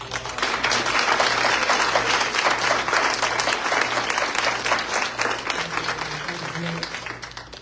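A room full of people applauds candidates at a school board candidate forum, with steady, dense clapping that holds for the whole stretch before starting to thin near the end.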